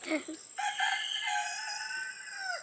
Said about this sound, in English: Noisy roosters.